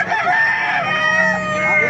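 At a poultry market in Baliuag, Bulacan, a rooster lets out one long, loud crow nearby, stretched over nearly two seconds, while chickens cluck and people chatter softly in the background.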